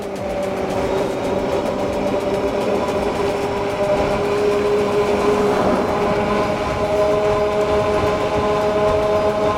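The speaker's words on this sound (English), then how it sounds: "You do hear the motor when it starts to wind up and accelerate" A VTUVIA SX20 Antelope electric bike's motor winds up under acceleration at around 20 to 25 mph, a steady tonal whine with rising hum and rolling road noise throughout, fairly loud and close, without speech.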